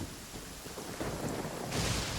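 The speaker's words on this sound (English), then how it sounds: "Of course, it has to be raining" Thunderstorm in the video game Genshin Impact, a dense continuous hiss of heavy rain with low rumbling thunder swelling louder toward the end.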